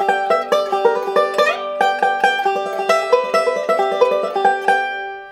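A banjo picked with round-tipped picks plays the tune Sally Ann in quick rolling notes, close and clear, with a fat, rounded attack and no talking.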